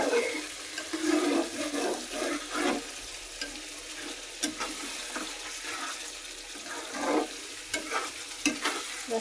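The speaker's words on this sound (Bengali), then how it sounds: "এখন কষে নেব" A curry is sautéed in a pan, its wet sizzle overlaid by frequent scraping and clattering strokes of a spoon stirring, close up and uneven in rhythm, with no voices.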